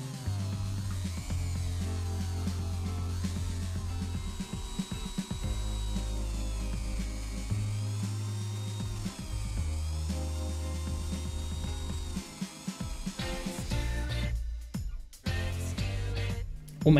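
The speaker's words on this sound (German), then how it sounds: "schleift man alle scharfen Kanten mit einem Soft-Rondell ab." A rotary tool runs steadily with a soft polishing wheel, sanding the sharp edges of a UV resin custom in-ear monitor shell; the close, continuous whirring grind shifts in pitch as pressure changes, with brief pauses near the end.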